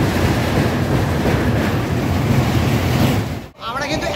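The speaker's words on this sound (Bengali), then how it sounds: "তো এই মুহূর্তে কিন্তু আমাদের ট্রেন পার করছে কোলাঘাট ব্রিজ" Dhauli Express passenger train from Shalimar to Puri crossing the Kolaghat bridge over the Rupnarayan river, heard from inside as a loud, constant rushing rumble that briefly drops away near the end.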